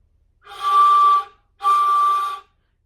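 Two breathy, airy notes on a ney reed flute, each about a second long, separated by a short pause, wavering slightly as if tentatively blown.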